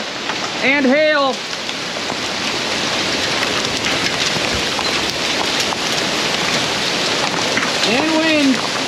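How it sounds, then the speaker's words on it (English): Rain and hail falling outdoors during a storm with wind beside a food plot, a dense steady hiss of drops pattering on surfaces throughout, with someone speaking briefly near the start and end. "Well, we're getting rain and hail."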